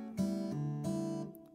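Acoustic guitar in drop D tuning plays a short fingerstyle lick built on chord shapes and inversions, two plucked chordal attacks ringing out clearly on their own, with no talking.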